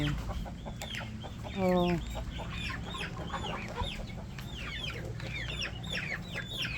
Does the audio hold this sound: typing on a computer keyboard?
no